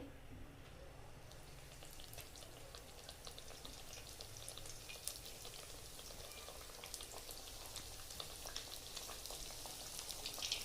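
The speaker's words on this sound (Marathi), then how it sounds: "आता मी एक एक करून बाटी तळून घेते" Bati dough balls deep-frying one by one in hot oil give a faint, steady bubbling crackle with fine popping, low and even throughout, with no talking.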